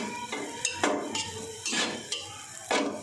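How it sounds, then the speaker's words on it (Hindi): A spoon stirs semolina halwa, a Kashmiri makhandi halwa, in a pan, giving several close scraping and clinking strokes in a steady, regular rhythm. "चम्मच चलाते चलाते ये देखें"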